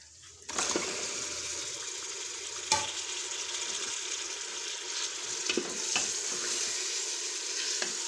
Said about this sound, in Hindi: एक 2 दफ़ा चम्मच से इसको मैंने हिला दिया ताकि ये सारा जो है ऑयल और प्याज में मिक्स हो जाए